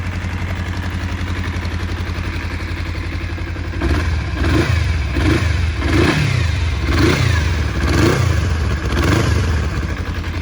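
A 1993 Kawasaki EL 250 Eliminator cruiser idling steadily, then blipped through a series of short repeated revs that rise and fall, loud and close, with a faint mechanical clatter underneath.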